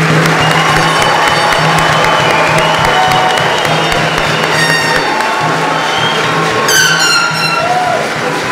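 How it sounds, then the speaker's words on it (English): Sustained applause and cheering from a crowd at an Air Force awards ceremony for Airmen of the Year nominees, a dense steady clapping that holds for several seconds before easing slightly. "Please join me in a round of applause for all of our outstanding Airmen of the Year nominees."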